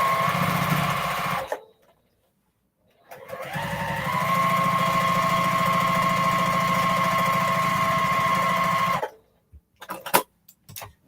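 A sewing machine stitching quilt block pieces for a cross or Dresden plate block runs in a steady whirring burst of about five seconds, after a shorter run, then stops, followed by a few soft handling clicks.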